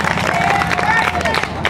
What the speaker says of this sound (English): Let's give Carson a round of applause.